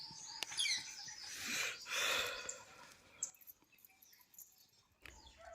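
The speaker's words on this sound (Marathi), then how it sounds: "पक्ष्यांचा किलबिलाट त्याने सकाळचं वातावरण अगदी म्हणजे प्रसन्न" Birds chirp in the morning in a Konkan village, with a cluster of bright, close calls early on that give way to sparser, fainter chirps and a few soft breathy sounds.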